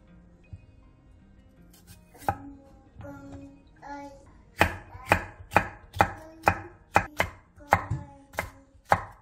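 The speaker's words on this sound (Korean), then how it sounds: "빨간 파프리카와 노란 파프리카 1개를 길게 반으로 자른 뒤 위아래를 반듯하게 자르고 어묵과 비슷한 두께로 채 썰어주세요." A knife cuts red and yellow bell peppers into thin strips on a board, starting with a few scattered taps, then a quick, even series of crisp, close chops.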